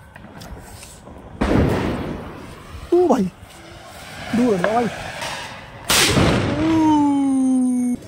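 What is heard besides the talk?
firecracker exploding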